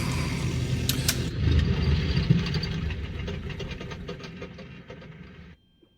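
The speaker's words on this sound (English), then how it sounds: "Very good sounds for engine shutdown." Auster J1 light aircraft engine in a flight simulator winding down at shutdown, a steady loud rumble with rattling that gradually fades, then cuts off abruptly near the end, leaving near silence.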